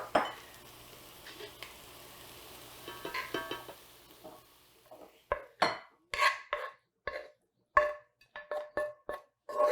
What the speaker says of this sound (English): we can go ahead and transfer it to a bowl